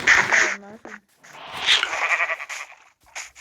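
Short sheep bleats, a couple of quick wavering calls at the start, followed by bright synthetic game sounds and clicks.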